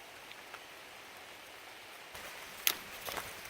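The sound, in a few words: rain falling on the Appalachian Trail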